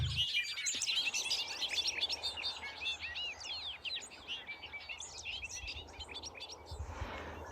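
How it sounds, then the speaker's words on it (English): Many birds sing at once in a dense chorus of bubbly, twittering phrases, a field of bobolinks heard close and steady with no talking. "the birds that are out here in this field are called bobolinks"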